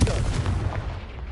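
The Confringo explosive spell fires in the video game Hogwarts Legacy, a loud booming blast with a heavy low rumble that decays over about a second.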